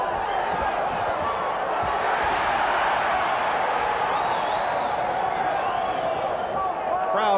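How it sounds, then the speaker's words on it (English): Loud, dense roar of a boxing arena crowd at a Vinny Pazienza vs Greg Haugen fight, a steady wall of cheering and shouting that swells without break, with faint voices mixed in. "Crowd overreacting because Pazienza just crazed Haugen."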